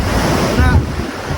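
Sea waves wash continuously onto the shore at a barangay beach, a loud, close roar of surf with gusting wind buffeting the microphone throughout.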